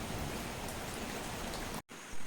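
Heavy rain pours down steadily as a dense, even hiss close by, broken by a brief cut near the end before resuming.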